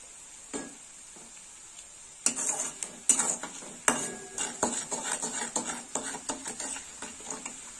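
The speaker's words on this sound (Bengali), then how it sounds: "এবার একটু কষে নেব, হলুদটা একটু ভেজে নেব" Turmeric and onion fry softly in a pan for a fish curry while a utensil knocks and scrapes against the metal in a run of close clinks and taps, growing busier after a quiet start.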